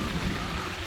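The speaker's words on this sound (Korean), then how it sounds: "비 옵니다. 비." Rain falling steadily on a mountain trail in Bangtaesan, Inje, Gangwon, during a sudden summer shower after thunder, a dense continuous hiss close around with low rumbling underneath and no talk.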